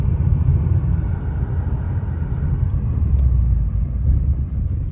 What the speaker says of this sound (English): I know y'all hear the car like rumbling